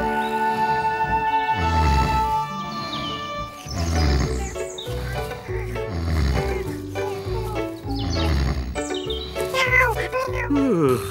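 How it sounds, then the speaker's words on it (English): Kittens meow in the children's cartoon Dawdle the Donkey, a string of high cries mixed with music and other animal voices. "Your kittens, I presume."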